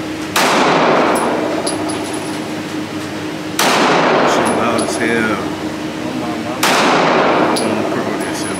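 Three loud gunshots from a handgun at a shooting session, spaced about three seconds apart, each a sharp close crack followed by a long ringing decay, with a voice talking between shots.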